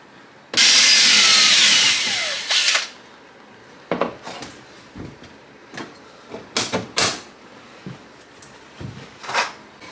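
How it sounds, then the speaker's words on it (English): A power drill whines loudly for about two seconds drilling out broken rivets on a boat, then stops, followed by scattered metallic clanks and knocks from handling tools. "I'm going to drill these out and re-rivet this"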